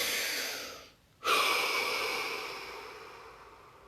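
A single deep breath, a slow close inhale followed by a brief pause and then a long, gradually fading exhale, alone with no talking.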